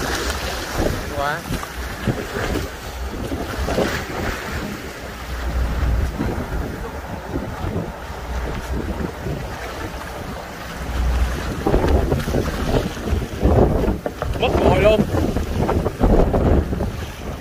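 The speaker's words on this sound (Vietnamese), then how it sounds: "Giờ thuyền trưởng cũng muốn câu lắm mà nãy giờ gió quá thuyền trưởng chưa câu được." Strong wind at sea on a fishing boat, loud gusting wind buffeting the microphone over rushing waves and hull noise, swelling and easing throughout.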